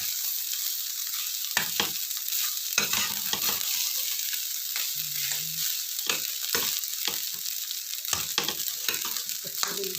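Fried rice with tempeh sambal is stirred and tossed in a pan over the heat, giving a steady close sizzle broken by repeated scraping and stirring strokes.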